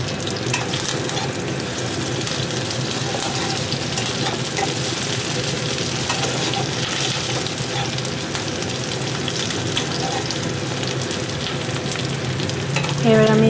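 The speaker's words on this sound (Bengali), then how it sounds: "এর মধ্যে এবার দিয়ে দিচ্ছি কারি পাতাটা।" Curry leaves go into browned onions frying in oil, a loud, continuous crackling sizzle with scattered pops, heard up close with no speech and a brief clatter right at the end.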